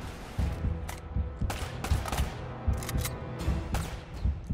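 Turret gunfire in the video game Uncharted: a dense, continuous fusillade of loud, overlapping shots with sharp bursts recurring about every half second, no talking.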